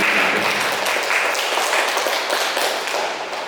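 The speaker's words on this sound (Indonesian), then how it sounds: "Kita beri aplaus bersama untuk membantu" Audience applause at an indoor discussion gathering: dense, sustained clapping from a crowd, loud and steady, tapering slightly toward the end.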